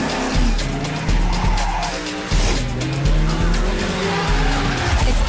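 Racing cars in Juiced 2: Hot Import Nights roar loudly with revving engines and repeated tire squeals and skids as they drift, a dense continuous rush of motor noise throughout.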